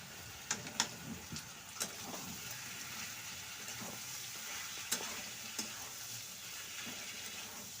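Chicken livers and crushed garlic sizzle softly in a frying pan while a utensil stirs them, with sharp scattered clicks and scrapes over a faint, steady frying hiss.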